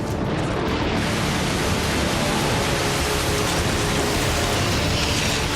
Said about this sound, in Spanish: Y por fin, la primera lluvia comienza a caer.